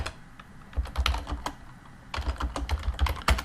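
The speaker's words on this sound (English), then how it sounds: "I'm going to type in grilling tools" Rapid keystrokes on a computer keyboard, typed close by in two quick bursts with a short pause between, no voices.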